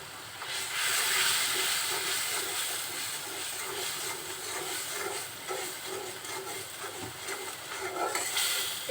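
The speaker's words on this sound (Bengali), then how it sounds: "এখন মশলাটা খুব সুন্দরভাবে ভুনে নেবো" Red chili and coriander powder spice paste fries in hot oil for egg curry, giving a steady loud sizzling hiss that swells and continues throughout.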